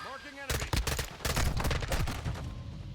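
Rapid bursts of M16 rifle fire in Call of Duty: Modern Warfare II, set to burst-fire mode, crack loudly and close over about two and a half seconds, with game effects underneath.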